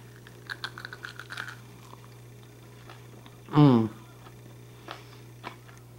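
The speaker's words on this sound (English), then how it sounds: "I'm going to have an oyster. See if you can hear it crunch." A single loud, close crunch as something crisp is bitten, standing out for a moment against faint background clatter and a steady low hum.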